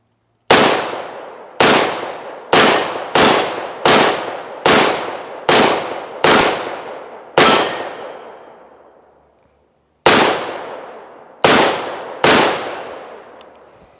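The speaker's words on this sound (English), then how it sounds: "Great gun. Let's shoot it a little bit more." A lightweight AR rifle fires eleven loud, close single shots outdoors. Each crack rings out and fades with a long tail, at an irregular pace with one longer pause before the last three shots.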